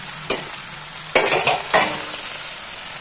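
Gongura (sorrel) leaves sautéing in a hot pan for thokku: a steady soft sizzle broken by three quick scraping strokes of a spatula against the pan.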